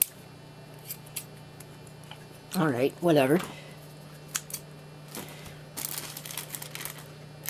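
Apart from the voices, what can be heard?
scissors cutting packaging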